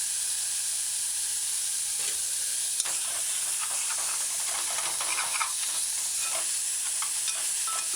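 Onions, tomato and seasonings saute in a pan on a stove set to medium low, a constant soft sizzle and hiss with occasional stirring scrapes and light clinks, no talking.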